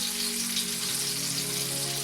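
Chicken cordon bleu fries in olive oil in a pan, a steady close sizzle and crackle of hot oil holding evenly throughout with no talk over it.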